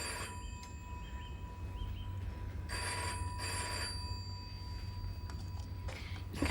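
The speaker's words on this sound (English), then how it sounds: "You can't just let a phone ring on and on." An old-fashioned telephone bell rings in repeated trilling bursts, fairly close and steady over a low background rumble in a quiet room.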